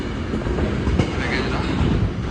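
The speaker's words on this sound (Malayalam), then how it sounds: "നമ്മളെ ട്രെയിൻ ഇങ്ങനെ പോവാണ്" Continuous rumbling of a train running along rails on a journey through Europe toward Karviná, Czech Republic, a dense, loud rolling roar heard from inside, with no clear speech.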